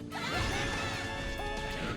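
A heavy smash collides with a blocking shot in Marvel vs. Capcom 2 on Dreamcast, as Juggernaut's head crush meets Roll's buster. The impact sounds as a dense, loud crash amid steady game effects and a sustained tonal ring.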